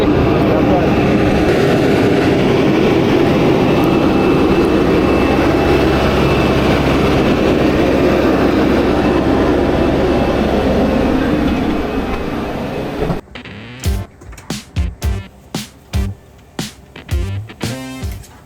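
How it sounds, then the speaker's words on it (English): A small passenger airplane in Hawaii runs its engines for the taxi out to the runway, a loud, steady broadband roar that drops away at the end into a few short thumps and clicks. "it was time to start our engines and taxi out to the runway"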